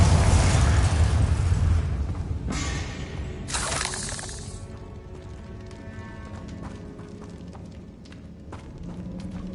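A Bombarda blasting spell blowing apart a barricade in the video game Hogwarts Legacy on PS5: a loud, deep explosive burst at the start, followed by crashing, shattering debris that trails off into quieter settling clatter.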